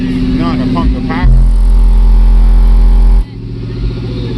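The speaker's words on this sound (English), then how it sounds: "You gotta keep the RPMs up." A car engine revs hard at high RPM for about two seconds, a loud steady drone under booming bass from a dual ZVX15 subwoofer setup on an MD 5000.1 amplifier, with talk before and after.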